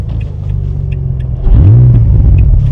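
Inside the cabin of a Renault Clio V6, the mid-mounted engine idles with a deep rumble, then revs sharply partway through into a loud, rising growl close to the listener.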